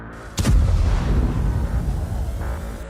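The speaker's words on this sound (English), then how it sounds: "Another T-80 hits an anti-tank mine." A T-80 tank sets off an anti-tank mine: one sudden heavy blast rings out near and loud, then a long rumbling roar slowly decays.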